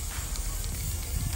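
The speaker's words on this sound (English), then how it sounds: "This is a primer, John? Yep, primer. So this is a primer. Spray this on, leave it for a while" Primer sprays from an aerosol can onto football boots, giving a short, close, breathy hiss over a low background rumble, with no speech.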